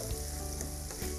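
Finely chopped onions frying in a pan, a steady dense sizzle with faint stirring scrapes running throughout at close range, no voices.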